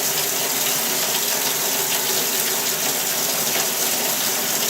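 Water runs steadily from a tap to rinse a container of blackworms, a constant gushing hiss that stays even and unbroken throughout.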